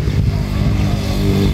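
A motorcycle engine rumbles steadily and fairly close beside a highway, giving a loud, continuous low drone with no clear rise or fall.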